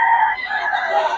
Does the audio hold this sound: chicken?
yes